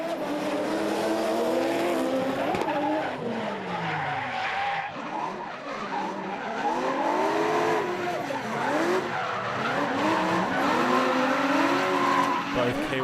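Drift cars skid and spin at a Trans Tasman Drift Series round in Sydney, loud tyres squealing in long sliding wails over roaring engines, while a commentator talks throughout.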